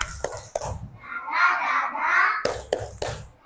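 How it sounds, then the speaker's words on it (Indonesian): A few sharp hand claps from young children in a first-grade classroom, then a sustained sing-song group chant, then more quick claps, a playful clapping ice-breaker game performed together. "Yuk kita ice breaking dulu, tepuk kiss, bye."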